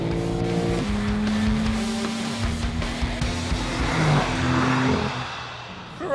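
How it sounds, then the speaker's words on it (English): A BMW M4 and a Lexus RC-F launch side by side with wheel spin, engines revving hard in a loud rising roar, tires squealing as the noise builds and trails off near the end. "Massive wheel spin."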